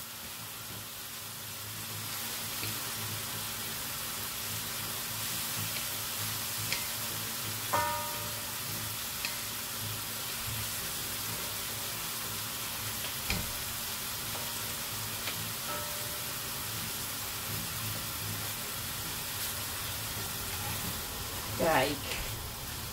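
Steady sizzling and crackling of bacon frying in a pan runs throughout, close and fairly quiet, with a few faint clinks and brief squeaks.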